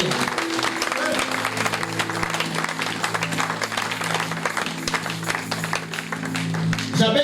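A church congregation applauds and cheers, a dense wash of clapping with voices mixed in that carries steadily throughout.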